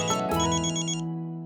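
A phone rings with an incoming call, a loud, close melodic ringtone that plays briefly and then fades out.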